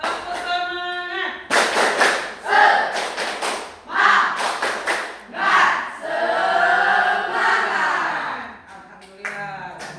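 A classroom of eighth-grade students performs the rhythmic tepuk semangat clap, several bursts of sharp group claps in a patterned beat, alternating with loud children's chanting voices.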